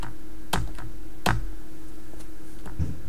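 Keys pressed on a computer keyboard during a space flight game, heard as a few sharp separate clicks spread over a few seconds against a quiet steady background hum.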